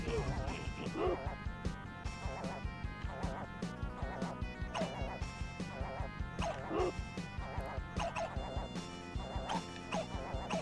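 Dogs barking in the Beavis and Butthead video game, repeated yips and bow-wows over busy game music and sound effects, steady throughout alongside birds attacking.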